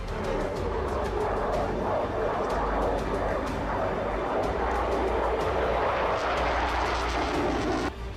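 Russian fighter jet engine roaring loud and steady from start to finish, with a few sharp bangs on top and a brief dip near the end.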